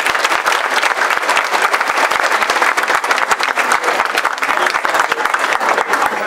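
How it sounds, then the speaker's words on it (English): Loud, sustained round of applause from an audience at a collegiate STEM conference, many hands clapping densely and evenly for the full stretch, close and unbroken, with no speech over it. "Could we give Padu another round of applause,"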